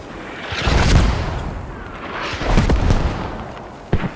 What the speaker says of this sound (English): they're getting hammered by mortars